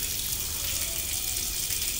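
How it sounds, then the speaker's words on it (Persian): Water rushes steadily out of a pressure tank with a punctured bladder, a constant hissing gush alone with no variation, close and fairly loud. "چون تویپش سوراخ شده راحت آب تخلیه میشه"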